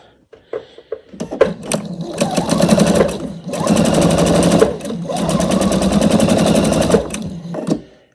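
Sewing machine stitching quilt binding strips at a 2.5 piecing stitch length, running loud and close in long steady whirring bursts with brief pauses and a few clicks at start and end.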